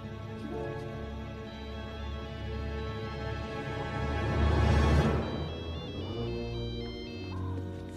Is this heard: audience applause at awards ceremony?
no